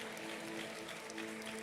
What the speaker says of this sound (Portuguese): Não aplauda não, senão vai parecer que eu canto.